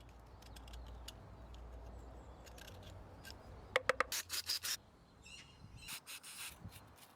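Scraping crust off an old brake part from a Jimny's rear brakes, a handful of short rasping scrapes and clicks heard close, faint over a low background hum.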